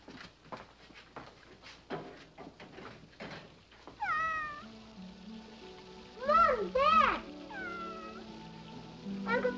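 A cartoon cat meows several times, drawn-out and plaintive, after a stretch of soft clicks and rustling; the meows are close and moderately loud.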